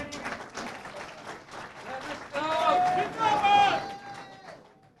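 A crowd applauds as Mayor Ishtiaq arrives at a Lahore gathering. Steady clapping runs beneath someone speaking loudly, then swells and tapers off.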